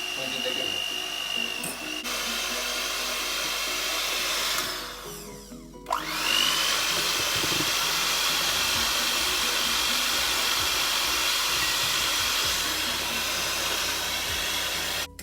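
An electric kitchen mixer whirs steadily while stirring butter and sugar for a coffee cake batter, a continuous motor drone that stops briefly midway and then starts up again for a long, even run.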